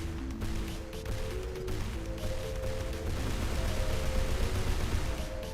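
Grenade explosions in a video game under development, a dense continuous barrage of booming blasts and crackling gunfire-like bursts that stays loud and builds slightly over the whole stretch, with no talking.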